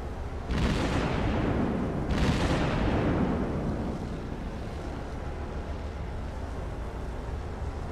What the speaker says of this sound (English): looks like we're just shooting at torpedo bombers now